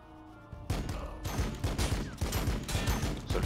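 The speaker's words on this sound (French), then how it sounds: "on va essayer de le finir avec des tirs" Gunfire in the strategy game Warhammer 40K Battlesector: after a quiet moment, a dense volley of rapid overlapping shots and impacts erupts and keeps pounding at a steady, loud pace.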